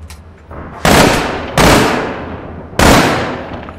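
Three loud, close bursts of automatic gunfire from a player's weapon in the shooter game APB Reloaded, each a sharp broadband crack that decays into a short echoing tail, spaced unevenly over a few seconds with no talk.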